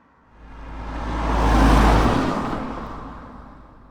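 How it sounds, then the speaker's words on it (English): Cars passing on a road, a single broad whoosh that swells from faint to loud at mid-clip and fades away again, with a deep low rumble and no voices. "A lot of cars coming, which is good for our little experiment."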